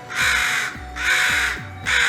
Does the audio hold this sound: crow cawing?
yes